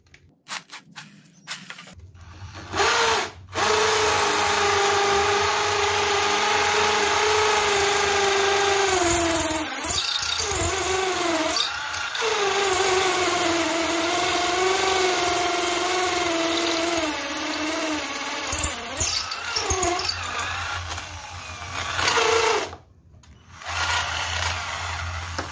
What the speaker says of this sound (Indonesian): bor beton 10 mili